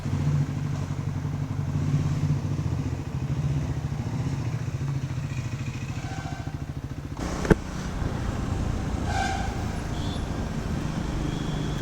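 A Triumph Scrambler 400X motorcycle being ridden home from a service center after a stalling problem, with a steady engine drone and road and wind noise throughout and a single sharp clatter midway.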